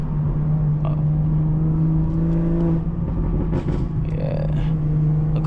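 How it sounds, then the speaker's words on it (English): A BMW 440i pulls hard under aggressive driving, its engine a steady, close, sustained drone with a rising tone toward the end and no talk over it. "you guys want me to drive aggressive, and we can do that over here on this side"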